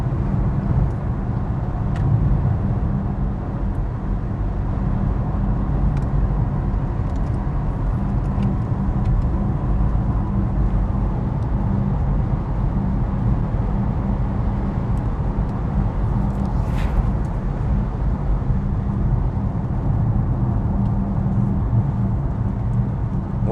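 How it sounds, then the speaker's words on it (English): A steady, loud roar of tires rolling over a concrete road near Falkenberg fills the cabin of a BYD Tang electric SUV, a constant droning rumble with no breaks and no one speaking. "We are now on the concrete surface around Falkenberg, and this car is noisy"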